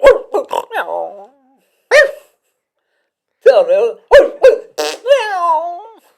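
Several sharp, close barks from a dog come in uneven bursts, some clustered quickly and others separated by short pauses, with brief speech mixed in.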